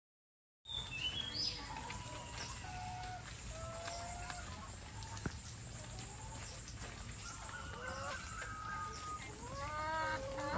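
Chickens kept at a tourist farm set among green rice fields, with scattered clucks and calls and a rising rooster-like cry near the end over a steady low background hum.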